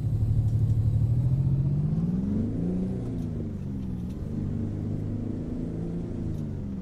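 Kenworth W900B truck with a Detroit 8V92 engine pulling away in American Truck Simulator, a loud, steady low diesel rumble that rises in pitch as it revs through a gear change, with no talk over it.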